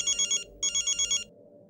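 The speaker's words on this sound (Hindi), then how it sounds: "फोन भी ना गलत टाइम पे बजता है" A phone ringtone trills in two loud, close bursts of rapid electronic pulses, separated by a short pause, playing alone.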